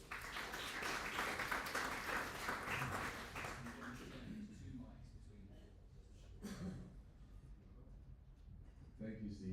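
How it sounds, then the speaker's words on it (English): Applause from a forum audience for an introduced entrepreneur, a dense burst of clapping for about four seconds that then thins and fades out, with scattered claps after. "Round of applause, please, for Bill."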